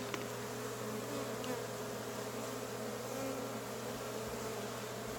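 Honey bees buzzing during a hive inspection, a dense continuous drone of many insects close by, steady and even throughout with no talk over it.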